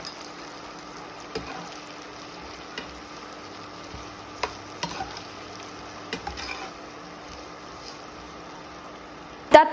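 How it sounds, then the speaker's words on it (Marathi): Onion roasts in a pan for Kolhapuri chutney, producing a low, even sizzle at moderate distance with scattered sharp clicks and scrapes from stirring, and a louder clatter right at the end; nobody talks. "इथं आता आपण कांदा भाजून घेऊयात"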